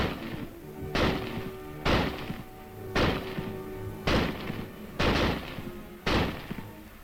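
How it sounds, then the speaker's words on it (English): A Springfield rifle fires an 8-round clip in six loud, sharp reports spaced about a second apart, each a punchy crack with a short echoing tail, and no talking between shots. "Simply insert another clip of 8 rounds and commence firing"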